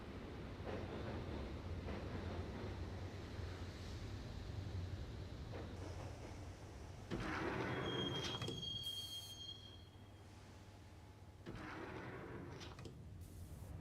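Train ride in the Max Payne video game, with a steady rumbling wheel-on-rail roar and a sustained metallic squeal of wheels partway through, the noise dipping briefly before the rolling resumes.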